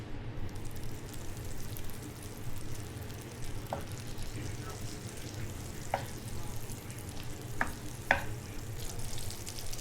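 Butter melting in sunflower oil in a frying pan, giving a steady close sizzle and crackle throughout with a few sharper pops, continuous and moderately loud.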